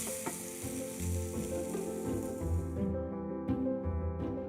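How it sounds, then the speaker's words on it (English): Mushrooms sautéing in butter in a pan, an even sizzle with soft tossing knocks, close and moderately quiet, the hiss cutting off partway through as music plays on. "Give them a toss in that butter"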